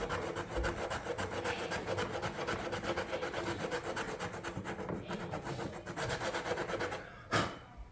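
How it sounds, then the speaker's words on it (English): 80-grit sandpaper is rubbed over a plastic car bumper in quick, rhythmic back-and-forth strokes. The sound is close and continuous, a steady scratchy rasp that stops with a short bump at the end. "I'll sand this spot so you kind of can see what I want it to look like."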